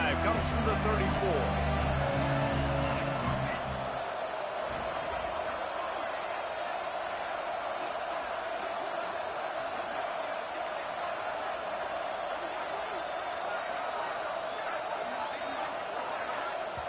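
Stadium crowd noise in a college football video game, Texas Tech against Kansas State: a steady, dense roar that swells early and then holds at a constant level under play-by-play commentary.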